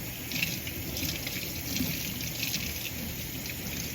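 Tap water runs steadily over fresh strawberries being washed in a kitchen sink, a continuous close splashing trickle with no talking.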